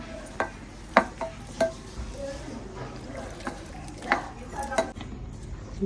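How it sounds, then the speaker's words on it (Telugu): Gram flour batter with salt and chili powder being mixed in a bowl, heard as soft wet stirring with sharp clinks of a spoon against the dish at irregular intervals, close and fairly quiet. "కొంచెం కారం వేసుకున్న తర్వాత కొంచెం జారుగా కలుపుకోవాలండి శనగపిండి"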